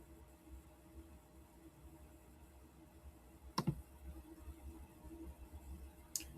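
Two sharp, faint computer mouse clicks, one midway and another near the end, stand out from a quiet background hiss.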